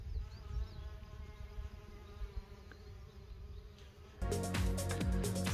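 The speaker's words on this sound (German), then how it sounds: "Und alles Bienen, die hier an der Arbeit sind." Many bees hum steadily along a flowering field margin on a hillside walk in the Emmental countryside, a continuous close buzz that swells louder and busier near the end.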